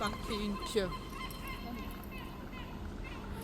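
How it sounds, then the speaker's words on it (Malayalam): Birds from a natural park near town in Faro, Portugal, with goose-like honks and calls early on over a steady outdoor background and faint voices. "അപ്പോൾ അവിടെ നിന്നുള്ള പക്ഷികളുടെ ശബ്ദമാണ് ഇപ്പോൾ കേൾക്കുന്നുള്ളത്"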